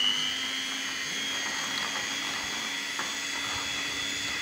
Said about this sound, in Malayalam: നമുക്ക് നന്നായിട്ടൊന്ന് ബീറ്റ് ചെയ്തെടുക്കാം.